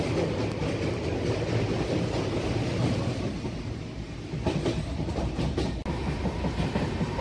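The 13149 Up Kanchankanya Express from Sealdah runs through hilly country near Sevoke, crossing a river. A loud, continuous rumble with steady clickety-clack of wheels on rail is heard from on board, with no talking.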